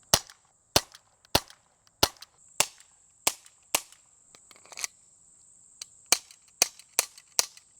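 A Glock 19X CO2 BB pistol fired at ballistic gel gives sharp, snappy pops, about a dozen in quick uneven bursts with a short gap midway, close and crisp with no talking.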